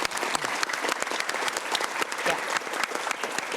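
An audience applauds for Pak Iwan on a talk show, with dense, sustained clapping that stays loud and even throughout and a brief voice heard within it.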